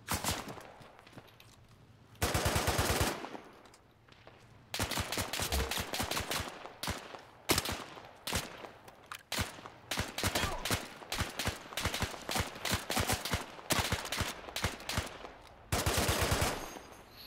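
Rapid bursts of gunfire from the WW2 shooter ArmA 3, with clusters of loud close shots and automatic fire separated by short quieter gaps.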